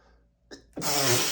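A man in a rapid sneezing fit takes a short intake of breath, then lets out a loud, close sneeze that carries on to the end without any talking.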